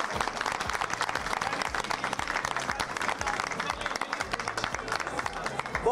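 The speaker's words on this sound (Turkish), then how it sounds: "Aydemir Akbaş'ı oyuncu ekibi böyle alkışladı." Cast and audience at a film premiere gala applaud together, a continuous, lively wash of clapping with crowd murmur and voices mixed in throughout.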